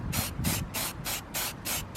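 Short bursts of spray paint hiss onto a van for a thin first dust coat, six quick evenly spaced pulses close to the listener, each a sharp airy rush.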